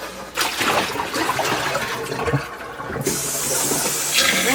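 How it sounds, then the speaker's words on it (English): Water being poured out and refilled in a dish pan, with splashing and a rushing, hissing flow that swells loudly toward the end. "Now I'm going to change the water."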